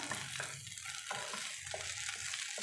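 Okra and potato fry in a pan while being stirred. Soft, rhythmic scrapes of the spoon sound about every half second over a constant background sizzle, close but fairly quiet.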